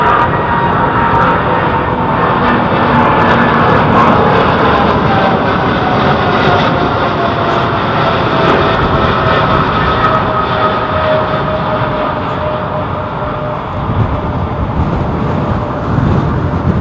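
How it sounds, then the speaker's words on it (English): A British Airways Airbus A380 taxiing out at London Heathrow makes a loud, continuous jet engine roar and rumble throughout, close and steady with no talk over it. "There's a BA 380 pulling out as well."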